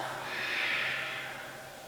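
A yoga practitioner exhaling during a vinyasa flow: one long, soft, breathy outflow of air lasting about two seconds, close and steady with no talk.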